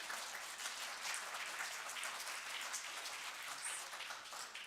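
Applause from an audience at a party leaders' forum on women's economic issues, a fairly quiet, steady spread of many hands clapping that carries evenly for several seconds without speech.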